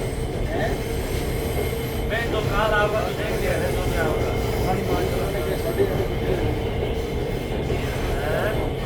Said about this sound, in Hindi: पाकिस्तान में ये पहली ट्रेन है जो चली है, लाहौर से उसका आगाज़ हुआ है